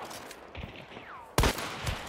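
A single loud gunshot cracks out in Hunt: Showdown, a sharp close blast with a ringing tail, after a quieter stretch of game ambience and a faint whistling sweep.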